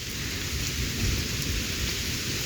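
Heavy rain pouring steadily in Savannakhet, Laos, with a low thunder rumble underneath: a dense, even roar of drops on surfaces, near and unbroken, no voices.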